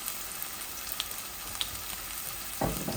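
Hot cooking oil frying in a pan in a home kitchen, a faint steady sizzle with small pops, followed by a louder burst of crackling near the end.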